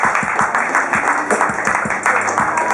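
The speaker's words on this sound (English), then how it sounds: "Give him another round of applause." An open mic comedy audience at Minnie's claps for comedian Connor Martin after his set, with close, loud, rhythmic applause from a small room that carries on throughout.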